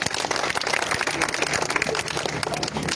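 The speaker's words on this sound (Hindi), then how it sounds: "ज़ोरदार तालियां कैसर भाई के लिए" Loud, dense applause from a crowd at a tape ball cricket league prize distribution ceremony, sustained and even for the whole stretch with no break.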